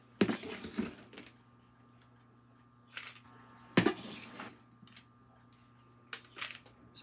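Potting mix goes into a pot for an amaryllis, heard as a few soft scoops, scrapes and crunchy rustles in short bursts separated by quiet pauses, close by and fairly faint.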